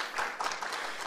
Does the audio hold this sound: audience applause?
yes